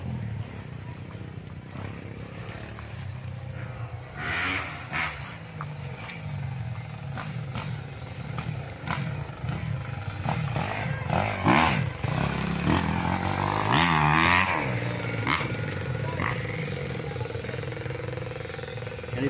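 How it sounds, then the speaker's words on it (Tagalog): Motocross motorcycles run nearby at a farm lot along a road in Nagcarlan, Laguna, with a continuous engine drone and occasional revving swells, mid-distance and steady over rural background noise. "dinig na dinig dito ang andar ng mga motor"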